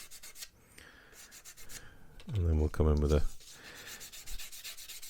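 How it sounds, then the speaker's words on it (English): A plastic sprue gate being burnished on a Tamiya M1A2 Abrams scale model, producing short dry rubbing and scraping strokes in quick repeated bursts, close up, with someone talking over part of it. "there is a little bit of a sprue gate here, and just whilst we've got it off and we can get to it, we're just going to burnish it up"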